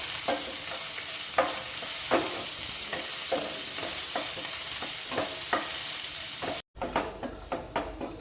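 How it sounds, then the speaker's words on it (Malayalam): Thinly sliced shallots sauté in hot oil in a pan for a soya pepper fry, a steady loud sizzle broken by regular scraping stirs of a spatula, with a brief cut near the end. "ചുവന്നുള്ളി കനം കുറച്ച് 1/2 കപ്പാണ് അരിഞ്ഞിട്ടത്. അതിൽ ചേർക്കാം."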